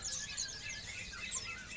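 Faint, thin chirps of a small finch, a pleci bird, flicker high and quick over a soft hiss of background noise, distant and a little indistinct.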